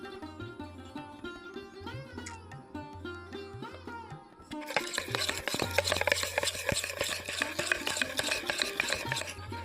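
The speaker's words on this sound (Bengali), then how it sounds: "তো এই লাল কালারটা খুব ভালো করে এখন আমি এখানে মিশিয়ে নেব" Red food colour is stirred into homemade nail polish, with dense, rapid scraping and clinking against a small container. The stirring turns louder and busier halfway through.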